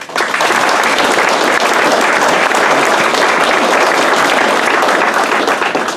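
Loud, sustained applause from a banquet audience at an EMS awards dinner, dense clapping filling the room steadily from start to finish with no break.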